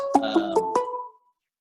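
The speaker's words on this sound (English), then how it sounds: "I have something ringing from somewhere that I don't know where it's coming from." A phone rings somewhere nearby with a short melodic ringtone, four quick bright tonal bursts over about a second that then fade out, heard alone with no talking.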